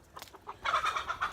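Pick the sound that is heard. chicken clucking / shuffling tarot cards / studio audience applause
chicken clucking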